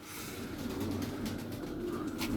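Tumbler pigeons coo softly and continuously against a steady background hum, with faint fluttering and rustling, heard at a moderate distance.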